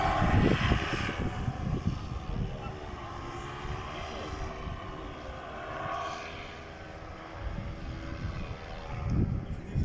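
A microlight aircraft with a 125cc motor flies in strong wind at a tourism festival in Islamabad, its propeller engine droning steadily at mid distance under gusty wind noise, with people talking nearby.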